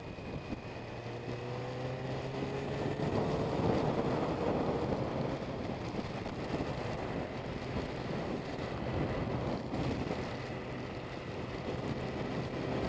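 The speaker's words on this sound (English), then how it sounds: "Pretty windy." Steady roaring wind buffets the microphone while riding a motorcycle, a dense, continuous low rumble with no voices.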